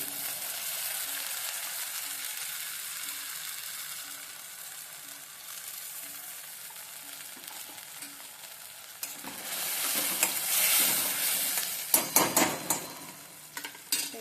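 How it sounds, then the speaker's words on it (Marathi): Ground spice paste frying in oil for dal tadka gives a steady soft sizzle with faint rhythmic stirring, then louder scraping and spatula strokes against the pan near the end, with no talking. "पेस्ट छान तेल सुटेपर्यंत परतून घ्यायची"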